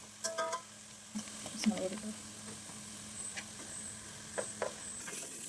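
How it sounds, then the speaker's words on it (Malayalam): Curry leaves fry in hot oil for a gooseberry pickle, giving a soft steady sizzle with occasional stirring clatters near the pan, moderately faint throughout. "ഇപ്പോൾ കറിവേപ്പില ആഡ് ചെയ്ത് കൊടുത്തു. ഇതിലേക്ക് അതൊന്ന് കുറച്ച് നേരം മൂത്ത് വരണം."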